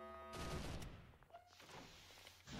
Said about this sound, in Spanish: Sí, hay tiros.